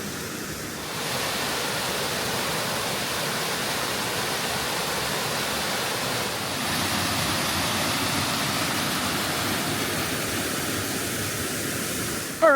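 Rock Run Falls pours as a waterfall in a steady, broad roar of rushing water, close by and continuous, with no voices heard.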